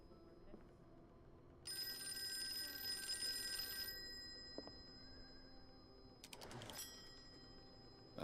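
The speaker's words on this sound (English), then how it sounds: "The phone can ring every few more minutes." An old-fashioned telephone bell rings in the horror video game Call of Cthulhu: a bright, metallic trill that sounds for about two seconds, then returns in short bursts over quiet room ambience.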